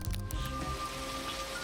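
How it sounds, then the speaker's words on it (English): Rain pours on a rooftop during a film's final rooftop scene, a steady hiss of drops spattering on surfaces with a faint tonal hum beneath, constant throughout without speech. "Hauer, who played Roy Batty in Blade Runner, was filming the final rooftop scene with rain pouring and his character moments away from death."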